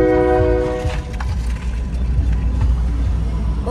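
A train passes close by, its horn blaring in a loud, sustained blast at the start, then the heavy rumble and clatter of rail cars continuing steadily.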